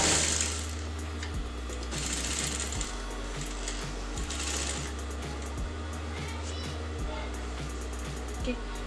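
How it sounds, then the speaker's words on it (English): A sewing machine stitches pink fabric onto a kameez neckline, its motor whirring steadily with a rapid rhythmic needle tick, preceded by a few brief bright rattles, close and continuous. "I'll be sewing that on top of this neckline"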